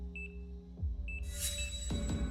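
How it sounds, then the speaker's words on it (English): A hospital machine in The Coma 2 horror video game beeps in short repeated electronic tones, then a louder burst of high beeps and noise floods in, with no one talking. "That's a lot more beeps than I think is necessary"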